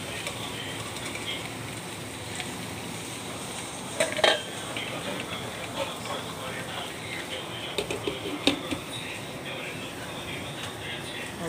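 A metal spatula scrapes and clinks around a pan of shrimp and okra being stirred, with a couple of sharper clanks as a lid goes on, moderately loud over a steady kitchen background hiss.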